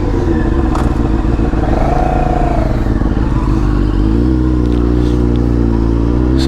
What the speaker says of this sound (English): I'm out here on my brand new to me motorcycle.